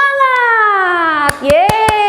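At a church Sunday school, a child's sustained sung note glides downward while several sharp claps ring out in quick succession toward the end, loud and close, as part of a group clapping chant.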